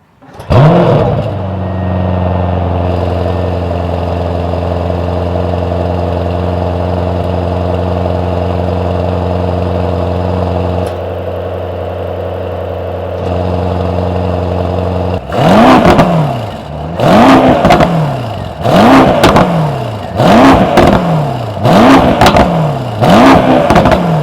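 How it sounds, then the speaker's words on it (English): The deep V8 engine of a 2024 Mercedes-AMG S63 sedan idles steadily with a rumbling hum, then revs hard several times in quick bursts, each roar rising and falling back. "This is what kind of sound we can get out of this car."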